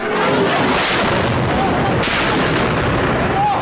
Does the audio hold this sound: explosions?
yes